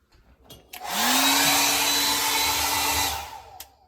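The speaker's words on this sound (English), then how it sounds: "I'm wanting to wait till it warms up a little bit, and I'm using a hair dryer" A hair dryer switches on and blows steadily on high for a couple of seconds with a constant whine, warming part of a Samsung RF260BEAESR refrigerator, then cuts off, preceded by faint handling clicks.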